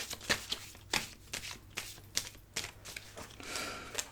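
Oracle cards shuffled by hand before one is drawn, soft, close riffling and slapping bursts in an irregular rhythm, ending in a longer continuous shuffle, quiet and without talk.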